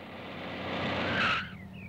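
A car brakes hard to a stop, its tires skidding and squealing loudly for about a second before the noise cuts off into quieter road rumble.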